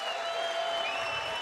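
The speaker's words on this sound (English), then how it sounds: "Listen to the crowd now." A crowd at a gladiator fight night in the Ancient Theatre of Plovdiv applauds and cheers in a steady, fairly distant wash of clapping that holds evenly throughout.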